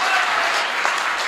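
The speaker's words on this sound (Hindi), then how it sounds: "आप लोगों को तालियां बजानी ही होगी" Dense, loud applause from a seated audience at a Hindi comic poetry gathering, a continuous wash of many hands clapping close by, with no speech on top.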